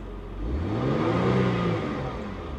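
The engine of a 43,000-mile Cadillac Catera (Opel Omega) revs as the gas is pressed, its pitch rising and then falling back toward idle in one close, smooth swell with no talk.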